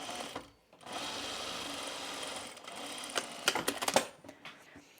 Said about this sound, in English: now we're going to sew this again at 3/8 of an inch seam allowance